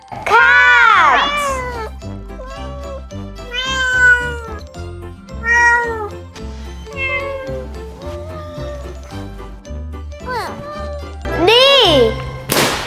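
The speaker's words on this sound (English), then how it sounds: "Cat." A cat meows repeatedly, loud and close, drawn-out wavering cries spaced across the stretch over a cheerful tinkling musical backing.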